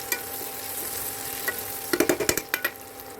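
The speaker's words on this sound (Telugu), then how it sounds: "అలా అల్లం వెల్లుల్లి పేస్ట్ పచ్చి వాసన పోయేదాకా వేయించుకుందాం." Ginger garlic paste frying in a pan gives a soft, steady sizzle, then a quick burst of close spatula scrapes and clatters against the pan, with no talking.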